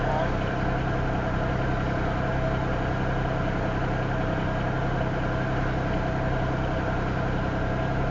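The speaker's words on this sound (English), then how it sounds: "how come you can hear the motor running on that engine for," A Norfolk Southern locomotive idles on a stopped stack train, a steady low diesel rumble with a constant hum that holds evenly throughout, heard from nearby.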